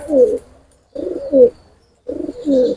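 Pigeons kept in a loft, among birds shown for sale, coo in three clear rounds of soft throaty warbling calls with short pauses between them, close and loud with no talk.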